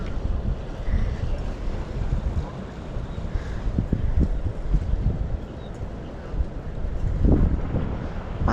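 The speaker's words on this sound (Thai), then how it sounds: "แต่ลมแรงมากเลย ลมพัดเข้าฝั่งด้วย" Strong onshore wind blowing across the sea at a Rayong beach in Thailand, a steady loud roar buffeting the microphone throughout, with surf washing underneath and no talk.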